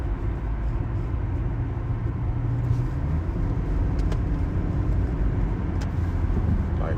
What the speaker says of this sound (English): Why are you driving next to me, bro?